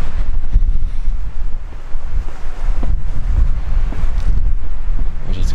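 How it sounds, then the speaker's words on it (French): Strong wind buffets the microphone outdoors on a Norwegian road trip stop between Hjelmeland and Bergen, with loud, gusty rumbling that rises and falls continuously. "Il y a du vent, mais pas une tornade non plus."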